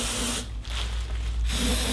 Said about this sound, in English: Next job is to spray a bit of activator into the hole.